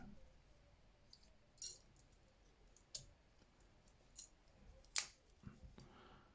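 Small metallic clicks and snaps of the scissors on an Alox Swiss Army Knife being opened, a handful of sharp close taps spread irregularly over quiet background.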